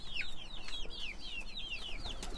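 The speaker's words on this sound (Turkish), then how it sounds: "Bunların hepsi cins civcivler arkadaşlar." Many purebred chicks chirp in a cluster, their high, rapid peeps repeating steadily and overlapping close by over a constant low background hum.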